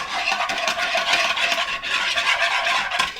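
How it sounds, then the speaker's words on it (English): Spices, powders and salt for a Tex-Mex rice salad dressing are whisked in a bowl, a brisk, rhythmic scraping and swishing heard close and alone. "just give that a whisk"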